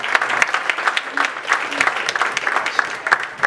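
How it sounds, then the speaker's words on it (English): Steady applause from a crowd at a training seminar, dense clapping that holds at an even loudness for the whole stretch, fairly close. "And a round of applause."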